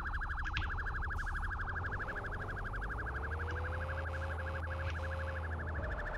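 A police car siren in the game Brasil Tuning 2021 cycles rapidly and steadily over a low engine drone, loud and continuous throughout, with a few faint clicks in the mix.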